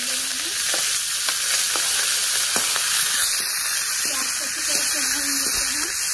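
Steady loud sizzling of chilies frying in hot oil for a tempering, with occasional stirring scrapes and a voice speaking intermittently over it.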